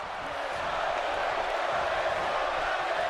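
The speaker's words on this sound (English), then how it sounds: "The crowd's still chanting for Bray Wyatt, obviously the fan favourite" A dense arena crowd roars steadily throughout a WWE 2K elimination chamber wrestling match, with a constant loud wash of massed voices and no distinct chant rhythm standing out.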